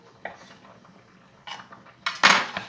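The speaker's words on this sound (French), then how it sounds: "on les coupe en petits morceaux" Knife chopping vegetables into small pieces for a rice salad: a few sparse, close clicks and taps on a board, ending in a louder clatter of utensils or dish.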